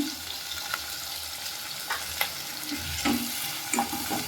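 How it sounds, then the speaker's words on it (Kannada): Chopped tomatoes with salt fry in a pan for village-style ladyfinger sambar, giving a low steady sizzle punctuated by several soft scrapes and taps of a stirring spoon. "ಇವಾಗ ಟೊಮೊಟೊ ಹಾಕ್ತಾಯಿದ್ದೀನಿ."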